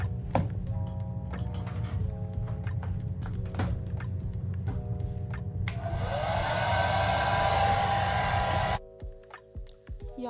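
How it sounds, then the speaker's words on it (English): A hair dryer roars steadily at close range for about three seconds while styling short natural hair, its broadband blast starting abruptly and cutting off just as suddenly, with faint clicks and a low background hum before and after. "So let's blow dry real quick."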